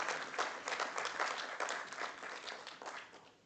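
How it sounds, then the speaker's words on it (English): Audience applause for guests at an arbitration week event in Nairobi, a sustained rush of many hands clapping at moderate distance, steady and then tapering off at the end. "Give them a clap."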